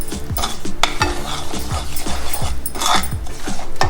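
Semolina halwa mixture being stirred in a pan, with rhythmic spoon scrapes and thick bubbling sizzle repeating every half second or so, loud and close.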